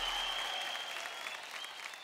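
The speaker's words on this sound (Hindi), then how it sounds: "जोरदार तालियां बजाएं" A television studio audience applauds loudly, a dense, even stretch of clapping from many people, with a faint whistle tone running through it.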